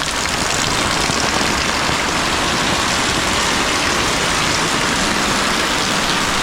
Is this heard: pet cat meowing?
no